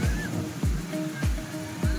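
Ocean waves roll in at a beach in Ratnagiri, each surge washing ashore roughly every half second to second in a steady rhythm, with broad surf noise close by.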